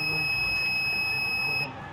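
A washing machine's lid-open warning buzzer emits a continuous, piercing electronic tone that runs steadily for most of the moment, then cuts off sharply, leaving faint background hum.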